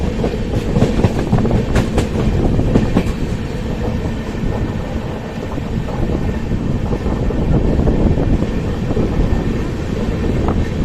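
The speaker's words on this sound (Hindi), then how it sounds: "करंटली हम एंटर कर रहे हैं उत्तर कन्नड़ा के one of the most important station Kalaburagi junction में।" Loud, steady rumble of a train, the 12219 LTT–Secunderabad Duronto, running through Kalaburagi Junction without stopping, heard from on board. The wheel clatter and wind noise keep up constantly with no pauses.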